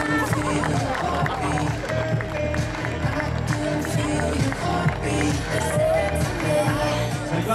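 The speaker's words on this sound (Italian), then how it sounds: "un applauso per Alessandra" A crowd at a beauty pageant show applauds and cheers in a lively, sustained roar, with a voice talking over the clapping.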